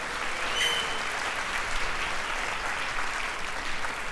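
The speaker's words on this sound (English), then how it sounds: "Give her a big round of applause." An audience at a productivity talk gives a round of applause, a steady, dense wash of clapping heard from within the room.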